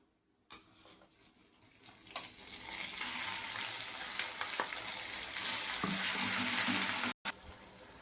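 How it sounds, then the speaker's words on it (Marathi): Tomato paste poured into hot oil with cumin seeds: after a quiet start the sizzle rises and swells into a dense, steady frying hiss with a few stirring knocks, then cuts off briefly near the end. "आता यामध्ये हे टमाटरचं पेस्ट टाकते."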